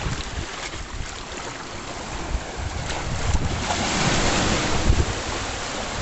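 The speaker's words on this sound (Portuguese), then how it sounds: "Olha aí que maravilha," Ocean water and waves at a hidden beach near Cabo Frio, Brazil, a steady broadband wash of surf with wind noise over the microphone, growing a little louder through the stretch, with no talking.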